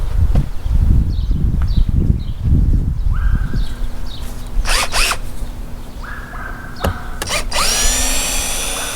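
A power drill whirs in several short bursts, spinning up and stopping, removing screws from a Box Chevy Caprice LS Brougham during vinyl top removal, with clunks and rattling handling noises close by.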